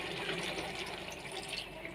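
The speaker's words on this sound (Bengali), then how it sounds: "আমি এবারে এতে জল দিয়ে দেব।" Water poured into a pan of pointed gourd being cooked, a continuous rushing, splashing pour that runs steadily from start to finish, close and fairly loud.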